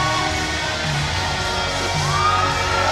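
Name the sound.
wrestling crowd cheering for Janela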